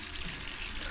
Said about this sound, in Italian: La fontana aperta.